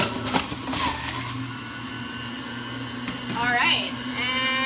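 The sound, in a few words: blender running on low speed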